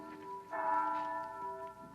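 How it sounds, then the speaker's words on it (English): A church bell at St. Boniface rings with sustained, resonant tones that swell and linger, heard fairly close and alone with no talk over it. "That's the bell at St."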